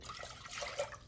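Water is poured from a tap into a 5-quart cooking pot, a faint, steady splashing trickle with light bubbling texture, heard alone.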